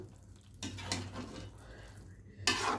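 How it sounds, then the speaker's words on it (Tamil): Gentle stirring of leftover idli masala in a pan over low heat, with soft scraping and clinks of a spoon against the pan in a few short bursts, quiet and close. "ஸ்லோவில் வச்சுட்டு இதை நல்லா மேலோட்ட கலந்துக்கணும்"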